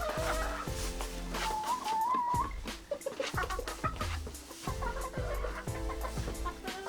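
Americana hens crossed with barred rock chickens cluck on a homestead, a steady run of close, overlapping clucks and short calls repeating through the whole stretch with no talk.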